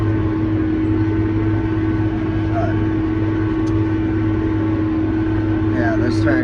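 A tractor engine runs steadily while turning dirt in a field, a loud continuous low drone with a constant mechanical hum that holds evenly throughout and stays close.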